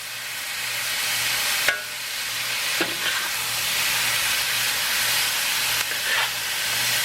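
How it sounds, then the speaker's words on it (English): Loud, steady sizzling and hissing of shrimp stir-frying with garlic and ginger in a hot wok, with occasional clanks of a utensil stirring. "Stir fry that shrimp up with that garlic and ginger. What you call a noisy wok right there."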